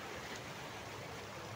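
Floodwater from heavy rain rushes along the swollen, muddy Manohara river in a continuous, dense roar with no pauses or voices.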